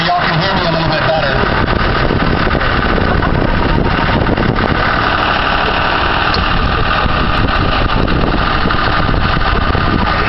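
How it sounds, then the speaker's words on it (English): A tractor engine runs steadily on a ranch during a ride, a loud, continuous, close rumble. Someone talks over it the whole time. "I'm going to pull up here and turn off the tractor."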